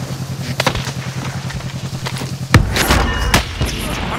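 Gunfire rings out during a battle royale video game match: a steady rumbling engine-like drone, then a loud boom and a burst of sharp shots in the second half, close and prominent.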